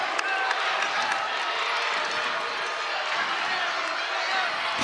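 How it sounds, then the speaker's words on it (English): A large crowd at a college basketball game between Western Michigan and Buffalo roars steadily and loudly throughout, a dense wash of cheering and shouting with no breaks. "This crowd will not quit."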